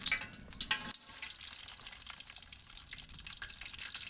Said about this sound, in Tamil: எண்ணெய் காஞ்சிச்சு கடுகு சேர்த்துக்கலாம்.